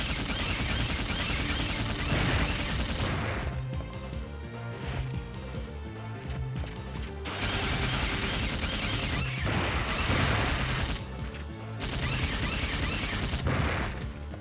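Rapid gunfire from the video game Dino Hunting 2 as dinosaurs are shot, dense volleys of shots repeating in bursts over a continuous loud backdrop, with brief quieter gaps between the barrages.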